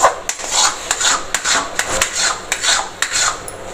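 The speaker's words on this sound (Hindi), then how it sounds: "इसी तरह से बराबर चलाते हुए खोए को भून लेंगे" A spoon scrapes steadily through khoa roasting in a pan, making a rhythmic series of rasping strokes, about one every half second, close and clear with no voices.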